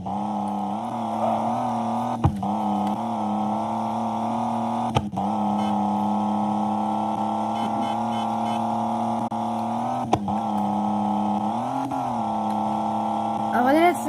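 A car driven in a video game, a synthetic engine tone holding steady pitch with a few sharp shifts and brief rises in pitch, while a person talks throughout.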